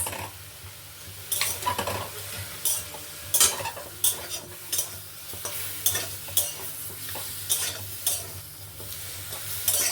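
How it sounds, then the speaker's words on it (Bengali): Homemade dog food seasoned with turmeric and cumin is stirred in a pan, giving repeated metallic scrapes and clinks over a steady sizzle, close and fairly loud with no talk. "এটাকে নেড়ে চেড়ে জল দিয়ে দেবো"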